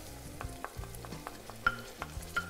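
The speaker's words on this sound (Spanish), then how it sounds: "dejadme que voy avanzando en el sofrito y luego os enseño cómo se hace. Vale, tomatito. La salsa de tomate." Tomato sauce goes into a sofrito frying in a pan for braised beef cheeks with vegetables, with soft sizzling and a series of quick scraping and clinking stirring strokes, close and fairly quiet.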